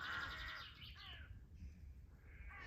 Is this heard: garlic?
no